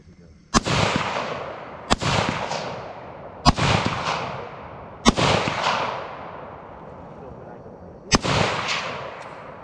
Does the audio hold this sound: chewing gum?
no